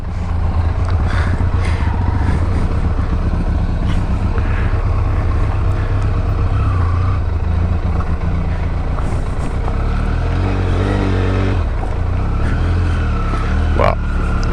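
A Benelli TRK502X motorcycle rides off-road. Its engine drones steadily and loudly, buffeted by heavy wind noise, with a rider's voice now and then.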